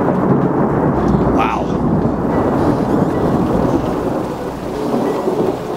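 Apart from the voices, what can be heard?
thunderstorm overhead in the mountains of western China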